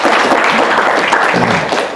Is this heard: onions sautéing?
no